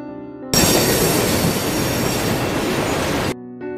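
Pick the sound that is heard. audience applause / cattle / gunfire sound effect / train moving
train moving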